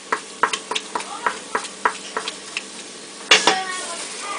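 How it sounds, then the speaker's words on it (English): Food sautéing in a pressure cooker is stirred with steady, evenly spaced scraping strokes against the metal pot, then a louder clatter and rattle near the end, close and distinct. "Okay, so I'm sauteing a little bit."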